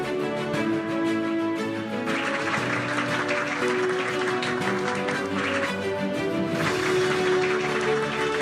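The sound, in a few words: audience applause at a school anniversary ceremony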